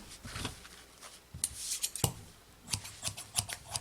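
Sewing scissors used for cutting and sewing are handled close up: scattered metallic clicks, rubs and snips in irregular bursts, fairly quiet, with no voices.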